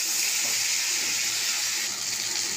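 Potato and eggplant frying in a pan with turmeric and salt, giving a steady, even sizzle that hisses continuously throughout.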